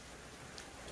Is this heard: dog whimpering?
no